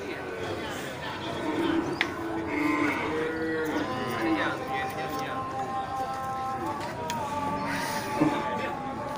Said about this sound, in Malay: ini 2 ekor sapi Bali Bless ya